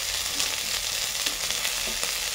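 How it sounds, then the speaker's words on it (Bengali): Mixed vegetables — potato, capsicum, carrot, cauliflower and onion — frying in a pan, giving a steady dense sizzle with faint stirring scrapes, close and continuous, no voices. "সুন্দর করে ভেজে নিচ্ছি আমরা সবজিগুলোকে"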